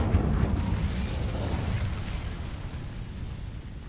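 The Incendio fire spell in Hogwarts Legacy bursts out as a loud, low whooshing roar that starts strong and gradually fades over a few seconds.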